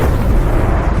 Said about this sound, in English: A catastrophic explosion shook the earth.